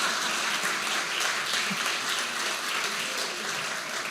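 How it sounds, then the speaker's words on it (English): Steady, dense applause fills the hall as the Newberry State of the City audience keeps clapping, an unbroken ovation with no speech above it. "Keep clapping, that's great."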